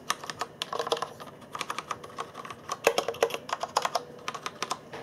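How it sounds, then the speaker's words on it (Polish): Typing on a Tesoro Colada mechanical keyboard with Cherry MX Red switches gives a steady, fairly quiet run of close keystroke clicks and clacks, heard alone without talk. "zastosowano tu przełączniki Cherry MX Red"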